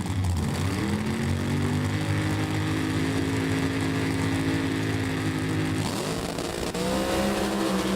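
A loud NHRA drag racing car run with Madison Gordon at the wheel, the engine roaring with strong sustained harmonics that climb and hold, then break off and rise again near the end, close and continuous with no talk.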